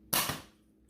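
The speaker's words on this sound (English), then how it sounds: "All right, we got our Dart Zone Ruby dart loaded up. I'm gonna go ahead and fire that guy." A single short pop from an X-Shot micro blaster firing a Dart Zone Ruby dart, a quick puff of air with a brief rattle, close and alone.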